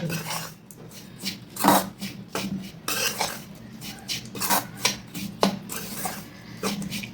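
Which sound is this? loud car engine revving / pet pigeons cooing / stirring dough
stirring dough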